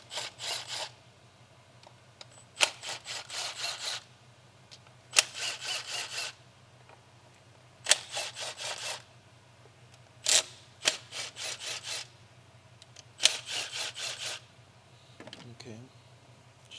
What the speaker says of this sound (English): with the T30, we're gonna go ahead and remove the screws for the PCV valve.